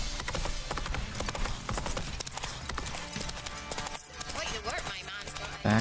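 A horse's hooves clip-clop rapidly in a video game, a dense rhythmic patter under game music and someone talking.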